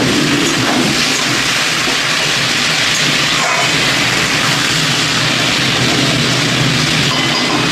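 Okra and potato pieces fry together in a pan, a loud dense continuous sizzle that holds steady throughout with no talk over it.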